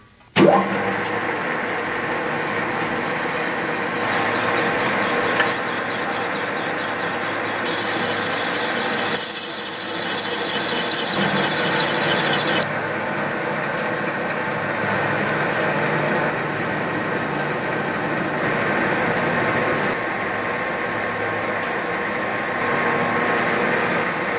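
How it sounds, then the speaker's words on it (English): A metal lathe turns a raw aluminum rod, making a steady mechanical whir with a piercing high squeal that rises for several seconds midway before the cut settles back to a constant drone. "here we have a raw aluminum rod chucked up onto the lathe"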